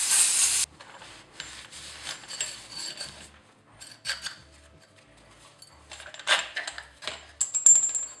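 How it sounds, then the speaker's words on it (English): Close scraping, rubbing and small clicks while dirt and debris are cleaned off a Bilstein 5100 shock absorber from a 2019 Toyota Tacoma, irregular and fairly quiet, with no talking. "I'm just going to clean up the shock to remove any dirt and debris."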